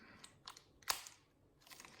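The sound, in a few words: tearing open a plastic bag with teeth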